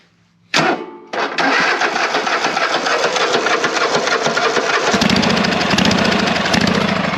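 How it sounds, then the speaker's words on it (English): A Kohler engine on a tractor starts with a push-button starter. After a brief crank it catches and settles into a loud, steady, close-up running drone with no talk. "the push button starter works great. The only thing is with this Kohler engine is that if you do not choke it, it will not start"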